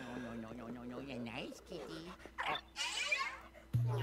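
Polter Pup, a ghost dog in the video game Luigi's Mansion 3, yips and whimpers in short bursts under someone talking over the game's steady background music.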